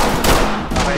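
Rapid gunfire from the tactical police shooter Ready or Not fills a one-second burst, loud and close, with a few sharp cracks running together and no talking.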